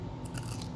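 A bite into the crunchy tail of a fried red tail surf perch cooked with its scales on, one brief close crunch with a dry crackle and no talking.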